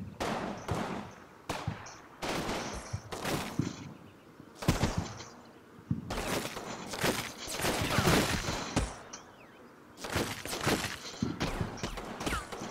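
Scattered bursts of gunfire in the Combat Mission wargame, near Vierville, some from a 60 mm mortar team's position, come in short sharp volleys separated by brief pauses across the whole stretch.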